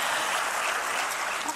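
Dense, sustained applause from a large audience fills the whole moment at the Africa CEO Forum in Kigali, a steady broadband wash of many hands clapping after a speaker introduction.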